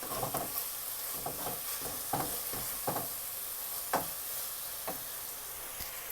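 Finely chopped green chillies sizzle in hot oil in a frying pan for chicken masala, a steady close hiss broken by regular scraping stir strokes, with no talking.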